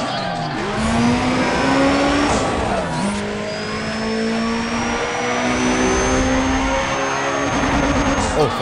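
A Honda Civic in NFS ProStreet screams at high revs without an upshift, the engine note climbing and holding near the limiter, loud and close, with brief dips and tire noise.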